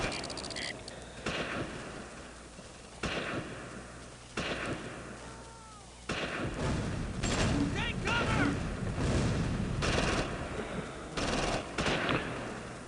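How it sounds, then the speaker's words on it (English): Artillery fire and gunfire in the Close Combat strategy game, set in the Normandy invasion, with repeated sharp bangs and bursts of automatic fire, some distant, some closer, thickening into a steady loud barrage in the second half. "That artillery did a pretty good job, I think."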